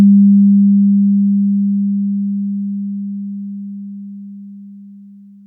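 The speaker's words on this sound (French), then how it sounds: "l'onde verte ici correspond à l'onde 32 bits exportée en 16 bits avec dithering" Pure steady sine tone, 32-bit audio exported to 16-bit with dithering, sustained alone and slowly fading in level.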